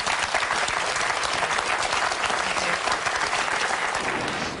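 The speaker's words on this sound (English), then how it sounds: "please, a nice hand of applause" Steady, full applause from a studio audience at a stage show, a dense continuous roll of clapping hands heard close, with little talk over it.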